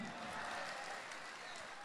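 A comedy-show audience applauds in a brief, fairly faint round of steady clapping for a performer named Kamidi.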